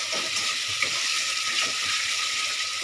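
Yardlong bean paste sizzles and fries steadily in a pan, a continuous close hiss with faint scrapes of stirring and no voices.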